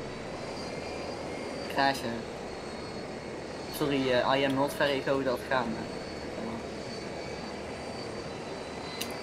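In the Arma 3 video game, a helicopter's steady engine and rotor drone fills the background throughout, while players talk over it at moments.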